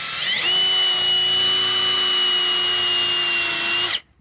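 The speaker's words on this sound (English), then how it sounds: "And drill down" A power drill boring eye sockets into a chainsaw-carved wooden bear, one steady, loud, high-pitched whine that holds for several seconds and then cuts off abruptly.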